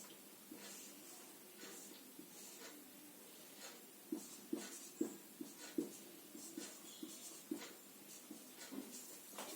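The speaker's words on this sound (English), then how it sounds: "So now we will draw a rough diagram of four-chambered heart." Pen or marker strokes drawing a rough diagram of a four-chambered heart, a series of short scratchy strokes in quick succession, soft and close, with faint room hiss and no talk.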